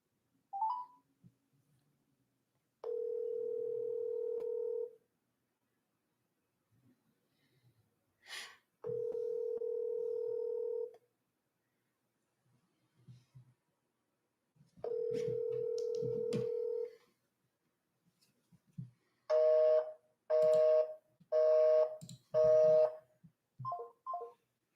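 Telephone dial tone and touch-tone dialing while calling back a scam caller: three long steady tones separated by pauses, then a quick rapid series of dialing beeps, loud and alone.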